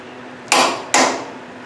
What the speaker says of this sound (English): watch the head of that torque wrench and listen.